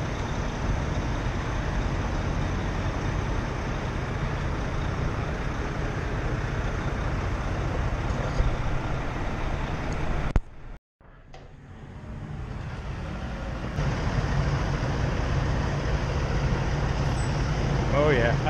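A Peterbilt 352 cabover truck on a summer night drive, its engine giving a steady, heavy low drone heard from inside the cab. The sound cuts out briefly midway, then resumes at the same level.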